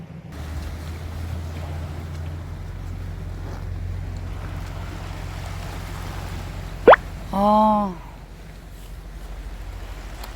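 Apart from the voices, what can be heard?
sea waves at island shore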